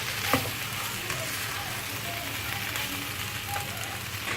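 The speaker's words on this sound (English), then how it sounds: "Give it a good stir." Chopped Chinese cabbage stir-frying in a pan, a dense, even sizzle like steady rain with a few light knocks from the stirring, close by and continuous.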